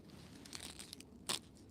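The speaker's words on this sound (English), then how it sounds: "Those leaves are crunching." Crisp crunching and tearing of fresh collard leaves, a few rustling rips building to one sharper, louder crunch near the end.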